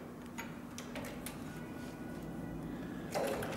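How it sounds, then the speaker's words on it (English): CB3200 sewing machine stitching through three layers of 8 to 10 ounce tooling leather, a steady low mechanical whir with faint repeating ticks, moderately close and running alone without talk. "So I'm going to go ahead and insert this into the machine and we'll start sewing."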